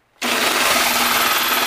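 A power drill fitted with a hole saw bites into a metal ammo box, starting abruptly after a brief silence and grinding on loudly and steadily without pause.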